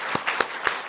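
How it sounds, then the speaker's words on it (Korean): A church congregation at a Sunday service claps briefly, a short burst of scattered hand claps in a hall. "박수로 환영하겠습니다."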